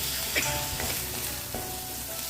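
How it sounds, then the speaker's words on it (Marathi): Ginger garlic paste sizzles and fries on sautéing onions in a pan, a steady close hiss with faint stirring scrapes throughout. "तीही कांद्यावर एक दोन मिनटे परतून घेऊयात आले लसुणीचा हिरवट वास गेला पाहिजे"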